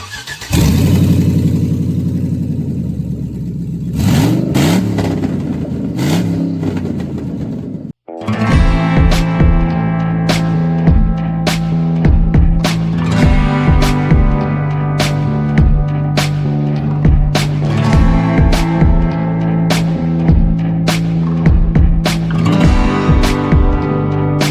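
A Chevrolet Silverado with snapped exhaust bolts and a detached Y-pipe cranks and fires, then settles into a loud, raspy idle with sharp repeated rev blips and ticking, close up and without talk.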